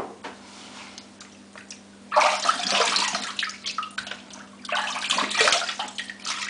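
Running water splashes during a wet shave rinse at a sink, a steady faucet flow that swells louder around two seconds and again near the end, close and alone with no talking.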